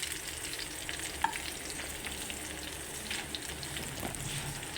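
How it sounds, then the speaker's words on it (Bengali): Banana flower kebabs fry gently in butter in a pan, a soft, steady sizzle with faint crackles and one brief spatter, heard close and quiet with no talking. "আস্তে আস্তে ভাজতে হবে"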